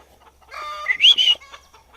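Chickens on a farm cluck and squawk close by in a short, rising burst of calls with quiet around them.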